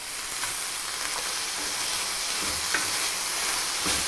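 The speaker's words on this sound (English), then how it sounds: "I'm gonna go back over here and give this a stir." A chicken and vegetable stir fry sizzles steadily in a pan, with occasional clicks and scrapes from stirring over a constant hiss; no one speaks.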